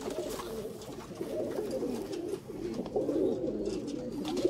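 Red-speckled Sialkoti pigeons coo softly and repeatedly at close range, low rolling calls overlapping one another against a faint background hum.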